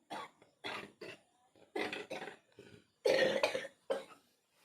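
A person with a cough lasting over a month coughs repeatedly in short harsh bursts, a dozen or so in uneven clusters, close and fairly loud.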